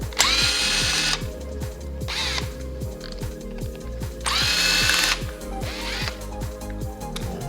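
A power drill spins Phillips screws out of the handlebar controls on a Honda CRF250L motorcycle, in two loud whirring bursts with ratcheting clicks and handling noise between them, heard without talk.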